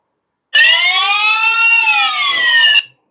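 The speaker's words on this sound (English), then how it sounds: "I think this is the button to set the alarm" A Tenda 360° outdoor security camera's built-in alarm siren blares for about two seconds: a loud, steady, piercing electronic tone that starts and stops abruptly.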